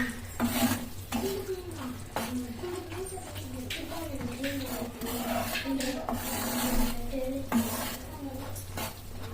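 Peanuts are stirred into thick sugar syrup in a pan for kadle mitai, with steady scraping and clinking against the pan under a soft sizzle while someone talks over it.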